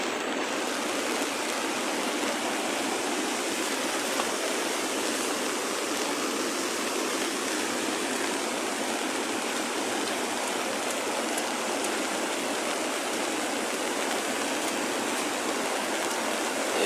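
Flood water rushes steadily through the Kibra slums, a loud, constant broadband roar like a torrent that holds without a break, with no voices over it.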